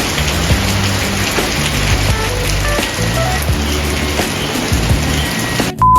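Steady, heavy rain in Baguio patters continuously on a surface, with a brief electronic beep right at the end.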